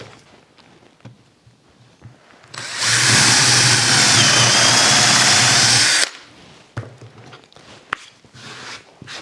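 A power drill bores through clamped wooden boards for dowel joints, a loud, steady whir lasting about three seconds, with quiet shop handling and footsteps before and after.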